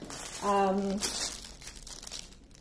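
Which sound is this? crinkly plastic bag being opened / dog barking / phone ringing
crinkly plastic bag being opened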